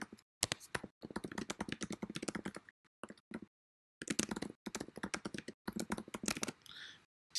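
Typing on a computer keyboard: rapid, close clattering keystrokes in bursts with short pauses between them, fairly loud, with no talk over them.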